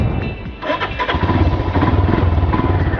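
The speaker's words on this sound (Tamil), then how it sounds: "இன்னும் வண்டி ஸ்டார்ட் பண்ணிக்கலாம்." A motorcycle engine cranks and fires up on a road ride near Anaikatti, Coimbatore, then settles into a loud, close, steady idle throb.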